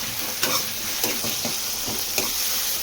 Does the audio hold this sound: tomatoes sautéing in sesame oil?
yes